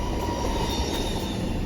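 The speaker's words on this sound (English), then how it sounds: "Swiss train." A Swiss train rolls past close by, its wheels and carriages giving a steady, loud rumble with a thin high squeal running throughout.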